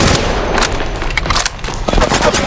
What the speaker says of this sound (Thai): ฉันถูกพบแล้วกำลังโดนยิง